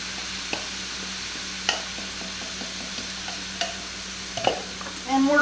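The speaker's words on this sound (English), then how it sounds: "We're going to dump in our onions and our garlic." Onions and garlic sizzling in a pan over medium heat, a steady frying hiss broken by scattered scrapes and clicks of a utensil stirring, with a louder clatter near the end.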